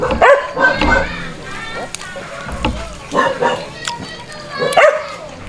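A pet dog barks in a few sharp bow-wows and yips close by, mixed with people talking in a home kitchen.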